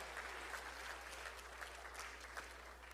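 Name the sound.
audience applause for temple priests and staff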